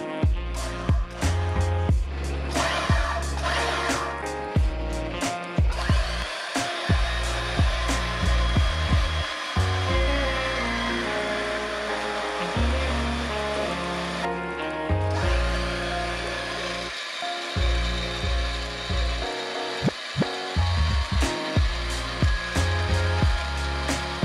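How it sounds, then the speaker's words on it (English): A small portable bandsaw on a table makes test cuts, its motor whirring steadily throughout with repeated cutting strokes and brief dips as the blade bites and clears the workpiece, with no talk. "So this little bandsaw is actually working pretty good."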